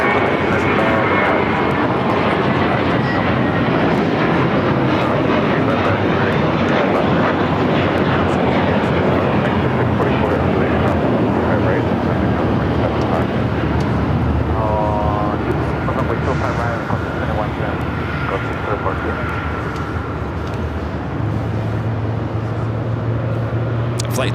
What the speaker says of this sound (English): Flight taken off, JetBlue Flight 100 heading to Fort Lauderdale, A321